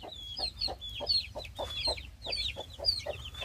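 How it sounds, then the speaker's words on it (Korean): Gold Brahma chicks peep in a high, continuous chatter while a mother hen that had been brooding eggs gives low, rhythmic clucks beneath them, close and steady throughout. "골드 브라마 병아리들이 새 엄마를 만났습니다."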